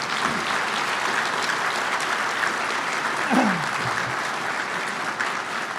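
A large dinner crowd at a military logistics awards ceremony applauds a band and color guard, sustained dense clapping at steady loudness, with a brief voice or shout rising partway through.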